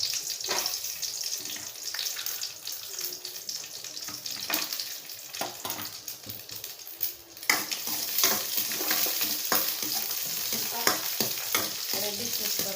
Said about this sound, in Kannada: ಈಗ ದ್ರಾಕ್ಷಿ ಗೋಡಂಬಿ ಬೇಕಲ್ವಾ, ಸ್ವಲ್ಪ ತುಪ್ಪದಲ್ಲಿ ಕರ್ಕೊಳ್ಳೋಣ